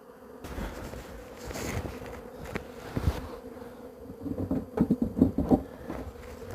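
Honeybees hum and buzz steadily around a hive, with a dense swarm droning close by and brief louder flurries of wingbeats toward the end.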